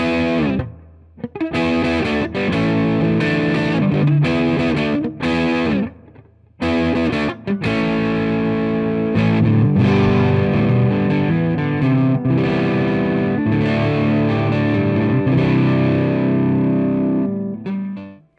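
Epiphone Explorer electric guitar, a 1958 Korina reissue, played on the neck pickup through a distorted amp: loud, thick chugging chords and double-stop riffs with a few short breaks, ringing out at the end.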